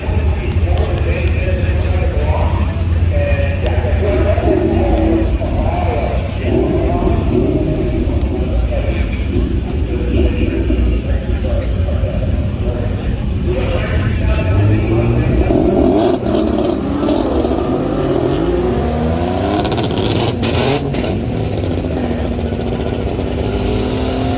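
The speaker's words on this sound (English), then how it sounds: "Waiting to come out to do his burnout." Drag race car in the staging lanes at FL2K, waiting to do a burnout, with engines droning and revving steadily at a loud level while nearby voices talk over them.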